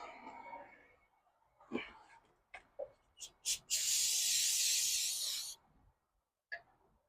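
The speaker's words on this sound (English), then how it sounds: "Spray some brake clean on them." A few short spray bursts, then a long steady hiss of aerosol brake cleaner on the brake pads of a 2012 Toyota Camry SE for about two seconds, close by, with quiet handling noises around it.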